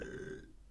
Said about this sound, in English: Stop like doing like a fucking Pixar character burp at the screen.